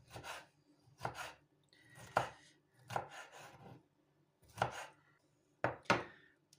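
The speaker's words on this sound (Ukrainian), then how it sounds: "Тепер поріжемо огурчик." A knife chops through a pickled cucumber on a board in six or seven separate close thuds, spaced about a second apart with quiet gaps between.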